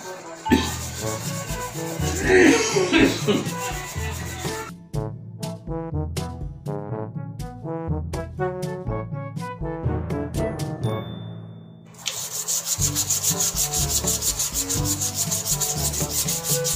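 Sandpaper scrubs a heavily stained toilet surface in a bathroom, rhythmic rubbing strokes in quick repeated bursts, close and fairly loud, ending in a steadier continuous grind.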